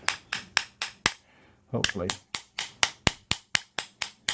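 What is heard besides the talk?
tapping a part out with a tool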